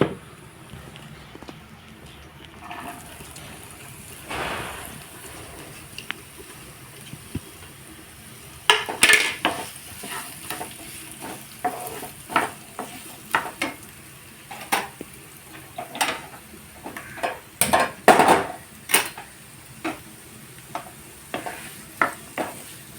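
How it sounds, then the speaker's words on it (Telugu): Onions, garlic, green chillies and spices fry quietly in oil for beetroot fry, while a spoon scrapes and clinks against the pan in irregular bursts. "కొంచెం ఆయిల్ వేసుకొని పోపు దినుసులు ఎల్లుల్లిపాయ పచ్చిమిరపకాయ వేగిన తర్వాత ఉల్లిపాయ వేసుకోవాలి"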